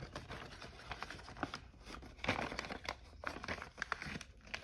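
Paper being folded into an origami Draken model: close, irregular crinkling and creasing sounds with sharper rustles as the sheet is opened and pressed flat.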